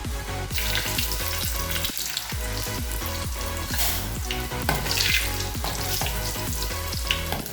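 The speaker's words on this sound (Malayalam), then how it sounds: "നമ്മുടെ കടുക് പൊട്ടി വന്നിട്ടുണ്ട്. ഇനി നമുക്ക് വറ്റൽ മുളക് ഇട്ട് കൊടുക്കാം." Dried red chillies drop into hot oil where mustard seeds have already popped, for a clam thoran, giving a close, steady sizzle and crackle that runs the whole time with no talking.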